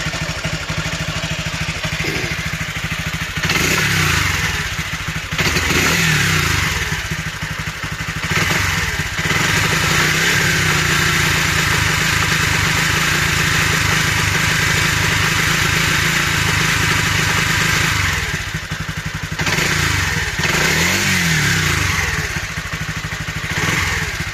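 A restored Honda CB250RS motorcycle engine runs steadily at idle without choke for the whole stretch, a loud rough putter with occasional clattering thumps and slight dips in rhythm.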